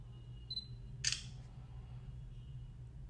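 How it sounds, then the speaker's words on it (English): A Sony Xperia E3 Dual phone takes a photo, with a faint focus beep followed by a single crisp, close synthetic shutter click against a quiet background. "Not the fastest shutter"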